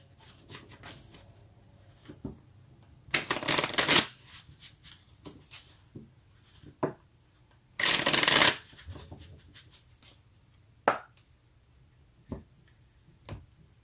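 Tarot deck being shuffled in two brisk riffling bursts, with soft card handling, taps and small clicks between them, close and quiet overall.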